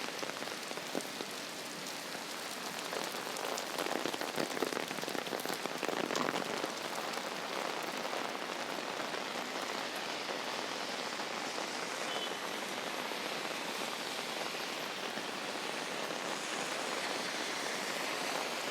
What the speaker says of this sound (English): So as you can see, the rain just keeps going.